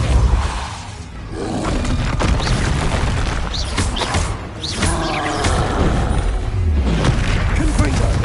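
Repeated spell blasts in Hogwarts Legacy on PS5, booming thuds and crashes in quick succession over a continuous rumbling roar of combat, loud and dense throughout, with a brief dip midway.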